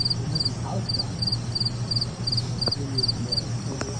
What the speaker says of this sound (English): Is there a cricket on the phone?